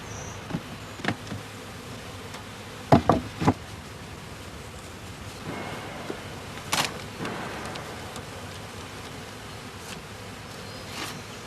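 Honeybees buzzing around honeycombs during old-fashioned beekeeping by annual rotation, a steady low insect hum throughout with a few brief louder knocks and handling sounds; no one speaks.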